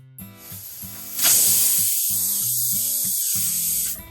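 Pressure cooker cooking carrot halwa lets out a loud, sustained steam whistle and hiss lasting several seconds, with repeated tonal pulses before and beneath it.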